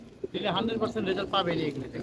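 Pigeons in a breeder's loft give low, throaty cooing, several overlapping calls close by forming a soft rolling murmur, with a brief knock near the start.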